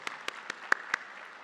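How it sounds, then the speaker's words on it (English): Clapping at an annual meeting in honour of the board of directors, heard as five sharp, evenly spaced claps over a quiet room hum. "Let's give them a round of applause."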